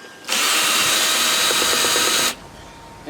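A cordless power driver whirs loudly for about two seconds, removing a 10 mm bolt from an upturned Sun Joe dethatcher, with a steady high motor whine that starts and stops abruptly.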